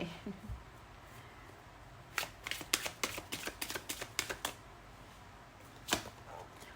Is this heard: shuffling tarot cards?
yes